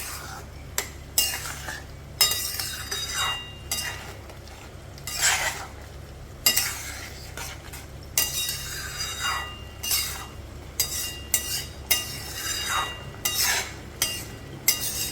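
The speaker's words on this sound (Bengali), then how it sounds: "এবার আস্তে আস্তে এটাকে মিশিয়ে দেবো" Spoon scrapes and clinks repeatedly against a pan while sweet tomato chutney with sugar is stirred, in steady irregular strokes over a low constant hum.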